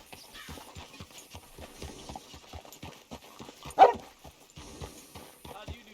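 Steady rhythmic hoof clip-clops of a walking horse in the video game Red Dead Redemption 2, with voices talking over them and one brief louder burst midway.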